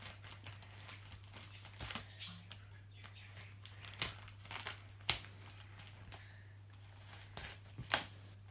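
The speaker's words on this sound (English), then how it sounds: "So we're going to use scissors." A plastic bag holding a new 4K camera and shoulder bag is cut and pulled open, giving several sharp crinkling bursts and rustles spaced across a quiet room, close to the mic.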